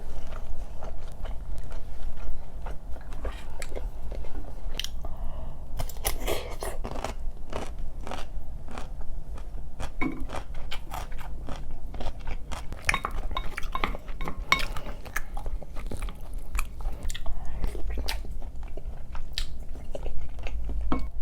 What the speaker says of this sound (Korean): 그동안 너무 먹어보고 싶었던 자메이카 통다리를 먹게 되었어요